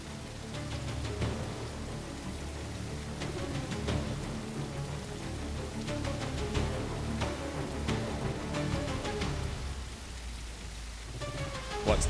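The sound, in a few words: rain falling in video game The Isle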